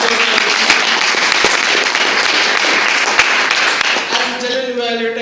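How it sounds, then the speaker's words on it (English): Audience at a club meeting breaks into sustained applause, dense clapping held steady throughout, with a voice emerging near the end as the clapping thins out. "Can we have a real big round of applause for our"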